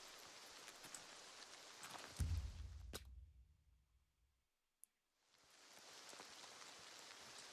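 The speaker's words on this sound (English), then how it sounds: "There's no way it rains 2 days in a row." Rain falls in Oblivion as a dense, even hiss that swells, drops away to near silence with a single click, then fades back in to a steady downpour.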